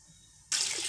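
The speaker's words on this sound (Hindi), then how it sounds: "अब हम इसमें पानी ऐड करेंगे।" Water poured into a pot of soaked kolam rice for mutton pulao begins abruptly halfway through as a loud, steady splashing rush, after a quiet start.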